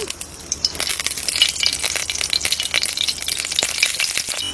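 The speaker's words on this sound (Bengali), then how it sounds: "এবার মাছ ভাজবো, কড়াই তেলটা দিয়ে দিই।" Fish pieces fry in hot oil in a wok, cooked in a Santali village. A dense, steady crackling sizzle carries through the clip at close range, sprinkled with sharper pops, with no talking.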